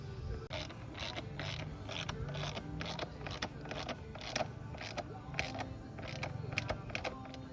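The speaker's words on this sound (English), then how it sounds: "So we'll get these 4 bolts tightened, put the plastic back on" A ratchet tightens the bolts of a Pro Circuit T-6 exhaust on a Honda CRF125F motorcycle, its pawl clicking in quick, evenly repeated strokes close by across the whole stretch.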